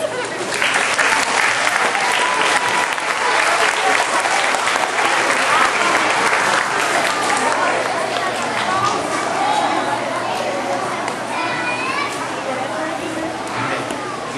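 Sustained applause from an audience of children and adults for newly installed Stackpole Elementary School Student Council officers at a swearing-in ceremony, a dense steady roar of clapping lasting throughout with some crowd noise and faint voices mixed in.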